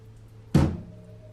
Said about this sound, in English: just banging his hand onto the wall